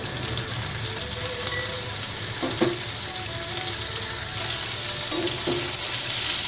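Potato, tomato and boiled chickpeas fry in a pan, giving a loud, steady sizzle throughout with occasional light knocks of a spoon stirring, and no talking.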